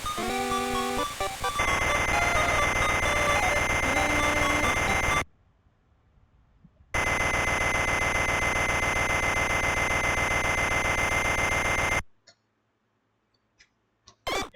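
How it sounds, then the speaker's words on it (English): An alarm clock rings in the video game Wario Land 2, a loud, harsh electronic buzzing chime that blares in two long bursts separated by a short silence, with a few bleeping game notes at the start. "Setting up an alarm clock"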